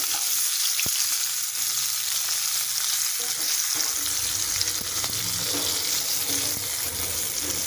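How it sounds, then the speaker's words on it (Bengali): Pointed gourd sizzles steadily as it fries in oil in a kadai for a vegetarian malai curry, a continuous hissing crackle at moderate level that stays even throughout, with no talking. "পটলটা আমার ভাজা হয়ে গেছে।"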